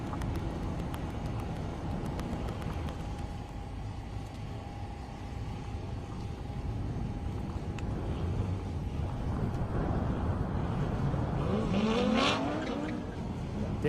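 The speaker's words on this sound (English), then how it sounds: "Pretty close race there. Robert Paxton in the Mustang, Larry Mangus in the Corvette." A Mustang and a Corvette drag racing down an airstrip, a steady distant roar of engines and wind building toward a brief tire squeal near the end.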